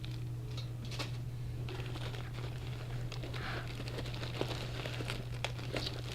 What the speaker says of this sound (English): There's an emergency blanket.